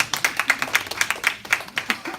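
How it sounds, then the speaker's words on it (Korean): A small youth congregation at a Sunday church talk claps together, a quick run of regular, evenly spaced claps heard close with no speech over it. "박수 한번 쳐줍시다."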